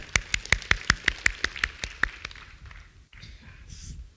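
Church congregation applauding for the pastor's wife during a Sunday service: a brief burst of clapping that starts as a steady run of sharp claps and then thins into scattered softer ones, with the room settling afterward.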